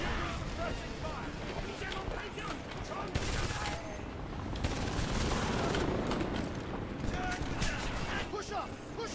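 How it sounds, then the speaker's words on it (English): Suppressing gunfire crackles in the Homefront video game, a dense sustained fusillade of rapid shots and bursts with shouted voices over the battle. "Give me suppressing fire!"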